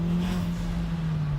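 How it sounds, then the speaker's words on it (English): A Kia Forte SX with an automatic transmission and a K&N aftermarket intake filter revs with its windows down, giving a steady, loud engine drone with a strong low hum that holds throughout. "this car is making a lot more noise than the stock intake"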